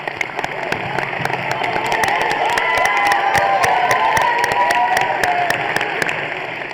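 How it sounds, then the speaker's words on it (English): An audience at an awards ceremony applauds steadily for coaches and staff, a dense, even wash of clapping with scattered cheers that holds for several seconds. "let's give them a round of applause"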